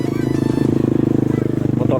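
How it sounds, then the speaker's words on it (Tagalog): A motorcycle rides along a dark road at night, its engine running steadily and close with a fast, even pulsing throb throughout, joined by a faint rattle. "Dito, nagmotor kami dito."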